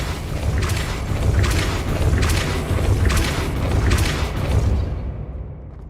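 Depulso force-push spell cast repeatedly in the video game Hogwarts Legacy, a series of regular whooshing bursts over a loud, rumbling background bed that cuts off abruptly near the end, no talking.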